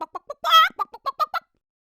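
A hen clucks in a quick series of short, clipped notes, broken in the middle by a louder, drawn-out squawk, then more brisk clucks before falling silent.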